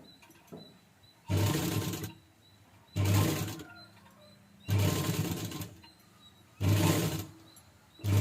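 A sewing machine stitches fabric piping in four separate bursts of fast whirring, each about a second long, with quiet pauses between them, close by.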